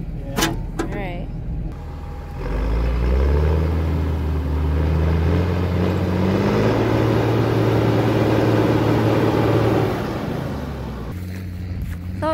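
A new tractor's engine starting and running for a drive home from hay baling, a steady, loud low rumble that rises and holds for several seconds before easing off, with a few clicks at the start and end.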